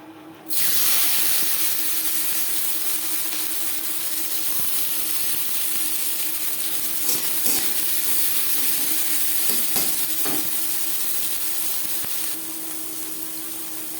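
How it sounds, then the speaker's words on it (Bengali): Dried red chillies and chopped onion frying in hot refined oil, a loud, steady close-up sizzle and hiss that runs on without a break, with a few faint clinks of stirring. "10-15 সেকেন্ড লঙ্কা ভেজে নেওয়ার পর দিয়ে দেব পেঁয়াজ কুচি।"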